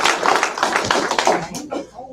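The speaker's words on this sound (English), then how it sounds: "give yourself and your higher power a round of applause" Audience clapping at a sobriety recovery meeting, close, uneven claps from a modest group with some voices mixed in, thinning out toward the end.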